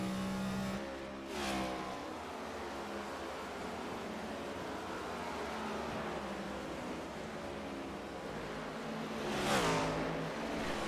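Racing cars in a video game set at Nashville roar continuously with layered engine drones, while two distinct sweeping pass-bys rise and fall sharply near the start and end.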